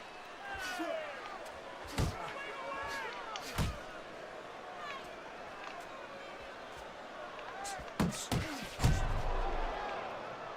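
Punches thudding in a Fight Night Champion boxing bout, sharp slams landing at scattered moments among a steady crowd murmur, with a commentator talking throughout.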